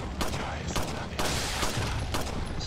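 Pistol gunfire in the video game Resident Evil 4 HD, dense, rapid, overlapping shots in a loud, continuous barrage that fills the whole stretch with little pause.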